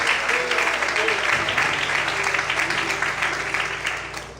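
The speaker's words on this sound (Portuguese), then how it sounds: "Aplauda o Senhor nessa noite." Church congregation applauding the Lord during an evening evangelical service, a thick burst of clapping over sustained organ-like tones that fades toward the end, with some voices mixed in.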